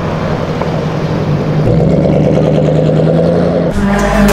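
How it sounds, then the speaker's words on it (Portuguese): An orange Jaguar with orange wheels accelerates on an avenue, its loud engine rising steadily in pitch with a strong revving roar. A gear change comes near the end, then a fresh surge. "Uma mina dirigindo um Jaguar laranja de roda laranja."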